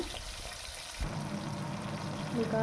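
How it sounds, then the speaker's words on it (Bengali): Soft, steady sizzling and crackling of koi fish frying in hot oil, quiet and close, with a slight bump in intensity partway through. "ভালো করে ভেজে নেব"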